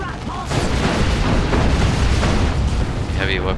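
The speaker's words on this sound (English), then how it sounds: "Each rocket hits, but only with the outskirts of explosions" Heavy, rumbling video game explosions boom in a dense, continuous barrage, with a brief higher electronic tone near the end.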